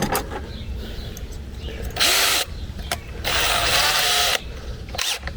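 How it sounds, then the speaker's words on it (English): A power drill bores into a metal shed while a hasp and ABUS lock are fitted, two loud sustained whirring bursts of about a second each, close by, with quieter handling noises between them. "Yeah, I'll drill on the left hand side."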